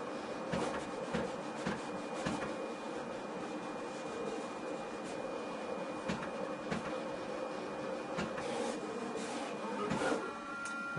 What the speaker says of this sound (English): now that the graphic's ready and the cutter's turned on and ready to go, we're going to go ahead and send the job over